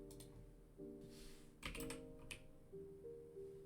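Someone types on a computer keyboard in short, quick bursts of clicking keystrokes, with steady background music running underneath.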